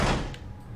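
A door is kicked down in the horror video game Outlast, a heavy low thud that booms loudly at the start and then fades away.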